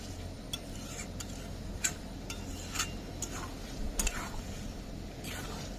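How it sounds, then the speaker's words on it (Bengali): Potatoes stirred in a pan of hot mutton fat: a steady soft sizzle with sharp spoon clicks and scrapes against the pan at irregular intervals, close up, with no talk. "আলু দিয়ে তো ভালো করে নেড়ে নিয়েছি"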